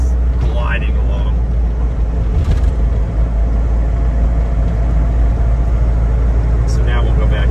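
A 1992 Range Rover two-door Classic rolls along a bumpy road, its steady low engine and road rumble filling the cabin with no pauses, and a few faint knocks and squeaks over the surface.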